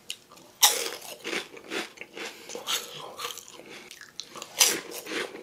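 Crunchy bites of fried laver chips (gim bugak) eaten up close, a series of loud crisp crunches followed by chewing, with a sharp bite near the start and another toward the end.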